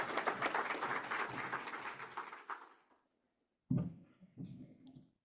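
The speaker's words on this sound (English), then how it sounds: "Round of applause." Conference audience at a keynote applauds, a steady roomful of clapping that fades out over a few seconds into silence, followed by a brief low thump and some faint trailing sounds.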